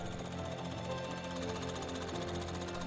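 Machine rough trimming the attached sole of a Goodyear welted shoe, a continuous loud rapid buzzing chatter with no pauses, close up.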